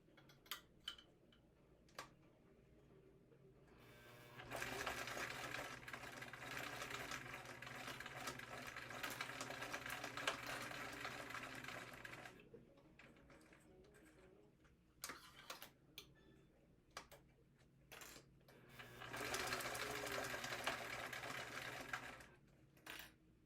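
A sewing machine runs in two long stitching bursts while sewing a pocket on a minimalist wallet, with brief pauses and scattered clicks between as the needle is set and the work pivoted.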